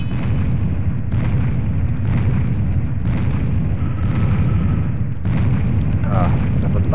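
Repeated deep eruptions of a lava gun in Serious Sam HD: The Second Encounter roar in rough bursts roughly every second, thick and continuous, with a voice talking underneath.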